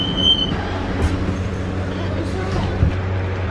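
Metro train ride heard from inside the car, with a steady low rumble of the running carriage and faint rattles throughout, plus a brief high tone near the start.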